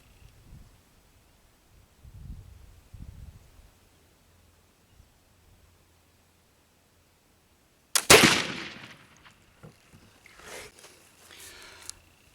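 A single sharp gunshot is fired downrange at a target. The bang is loud and close and breaks a quiet stretch that holds faint handling noises, and the sound dies away into rustling.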